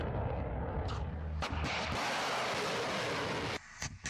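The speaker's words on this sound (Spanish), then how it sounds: "Resulta increíble ver cómo el oscuro mar del Ártico se ilumina al paso de este misil." A Russian Onyx missile launches over the Arctic sea with a loud booming roar and rumbling blast, followed by sharp cracks and a sudden drop toward quiet near the end.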